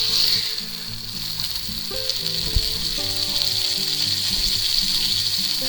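Ribeye steak edges searing against a hot pan, giving a loud, steady broadband sizzle that runs throughout, with faint background music underneath.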